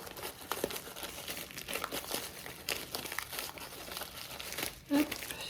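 Crinkly wrapping on a taped package holding a Christmas canvas crackles and rustles in close, irregular bursts as it is torn open, with a soft voice faintly underneath.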